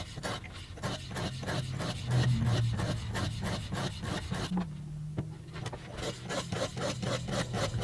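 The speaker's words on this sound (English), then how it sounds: "now we'll just work our way up through the grits and get this knife sharp" Knife blade stroked back and forth across the stones of a TSPROF Blitz guided sharpener, working up through the grits; a steady rhythmic rasping, about two strokes per second, close and fairly loud with no talking.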